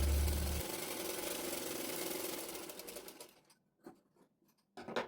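A sewing machine stitches blouse fabric for a back neck design, running in a steady rapid whir before stopping, then giving a few short bursts of stitching near the microphone.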